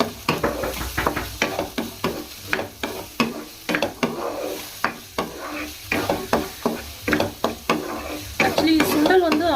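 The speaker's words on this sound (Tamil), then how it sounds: "இப்போ வந்து இந்த சுண்டலோடு இதெல்லாம் மிக்ஸ் ஆகணும்." Chickpea sundal for beach-style coconut and mango sundal is stirred in a hot pan: a steady run of close scraping spoon strokes over a continuous sizzle, with no talking.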